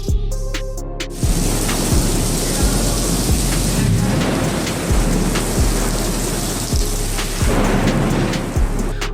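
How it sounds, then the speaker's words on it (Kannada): Heavy rain pours steadily and loudly, with repeated deep thunder rumbles and cracks throughout; no voices are heard. "ಮಳೆಯಾಗಿ ಸುರಿಸುತ್ತವೆ"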